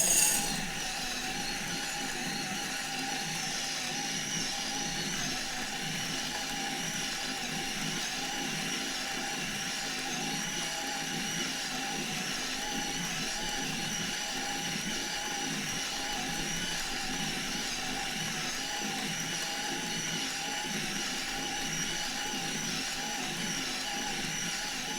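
A Geimori GU63 espresso grinder grinds coffee with a loud, steady motor whir and a grinding rattle. The sound holds evenly for about 25 seconds, close up, with no talking.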